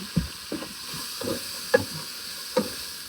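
Onions and jambalaya seasoning cook in a pan on lowered heat: a soft, even sizzle with several distinct stirring knocks and scrapes of a utensil at spaced intervals.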